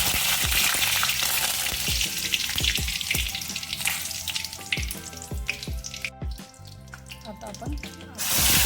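Dry red chillies and curry leaves hiss and crackle in hot oil just after the cumin and mustard seeds have popped, for a fish curry. The sizzle is loud, close and steady, with spoon scrapes and clicks from stirring.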